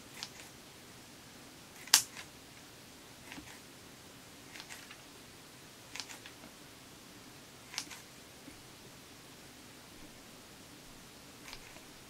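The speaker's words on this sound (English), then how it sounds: "I'm just going to use regular scissors again and prune a flat top type canopy on it." Regular scissors trimming a small bonsai cutting into a flat-topped canopy, a handful of sharp, quiet snips spaced irregularly over a faint hiss of room noise.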